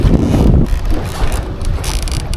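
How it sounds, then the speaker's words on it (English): Gusty wind at Lake Maloney in North Platte, Nebraska, buffets the microphone in loud, rough low rumbles that swell and ease over a couple of seconds, with no voices. "it's gotten really windy"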